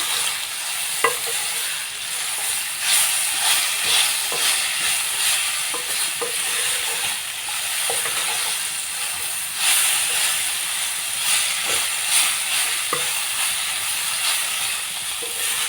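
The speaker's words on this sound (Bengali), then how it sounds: "চলো এটা ভাজা হতে থাকুক" Elephant apple (chalta) being stir-fried in a pan for pickle: a continuous close hiss of sizzling broken by irregular scraping and clattering stirring strokes, with no talking.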